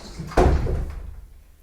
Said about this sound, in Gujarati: કબાટો ખોલો.